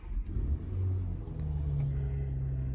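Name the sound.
2023 BMW X5 engine cold start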